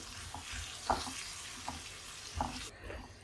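Tomatoes cooking in a pan give a soft, faint, continuous sizzle, with a few light stirring clicks over the steady frying hiss.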